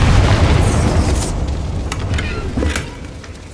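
A Confringo spell explodes in Hogwarts Legacy with a loud, close, rumbling boom that fades slowly, followed by a few sharp crackling pops and debris bursts.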